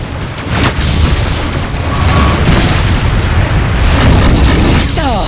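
Missile explosions from the space combat game Rebel Galaxy Outlaw, a dense, continuous rumble of booms and bursts that stays loud throughout with no gaps.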